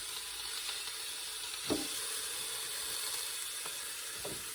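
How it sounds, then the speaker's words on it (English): A cheap supermarket steak sizzles on a grill, a soft, steady hiss throughout, with a few faint pops and one brief clatter. "So we have our meat on our grill, and we place it in there. Already sizzling."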